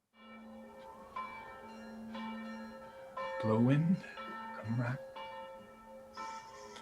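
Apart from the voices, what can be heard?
alarm bell ringing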